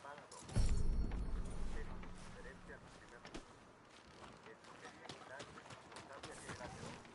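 Horse hooves clop in Red Dead Redemption 2 as a rider pulls up at a town hitching post. There is a heavy thud early on, then lighter scattered steps under game noise.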